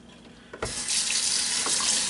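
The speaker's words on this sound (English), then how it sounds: "We're going to rinse it in cold water." Cold tap water gushes from a faucet into a sink to rinse salted northern pike being pickled, starting with a brief splash then settling into a steady, loud, close flow with no talking.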